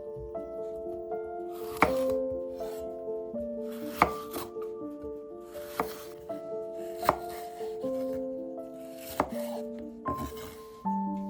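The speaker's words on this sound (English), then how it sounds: "Take a red bell pepper and slice it into thin strips" A knife slices a red bell pepper into thin, even strips on a cutting board. Crisp, regular knocks land about every second or two over soft background music.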